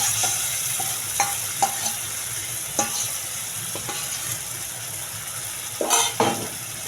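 Spices for butter chicken masala, with black pepper and leftover yogurt marinade, being sautéed in a pan: a soft, steady sizzle broken by intermittent scrapes and taps of a spoon against the metal, no voices.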